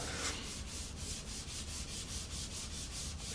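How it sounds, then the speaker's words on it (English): A sanding block scrapes across dry drywall joint compound in quick, regular back-and-forth strokes, close and continuous. "Our joint compound is dry. We're ready to sand."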